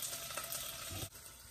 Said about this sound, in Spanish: Ya tenemos nuestra cebolla friendo con nuestra salsa de tomate